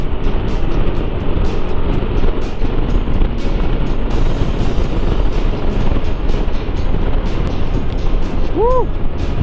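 Loud, constant rush of wind and engine roar from a Kymco Xciting VS400 maxiscooter at speed on an expressway, with a brief high whine near the end.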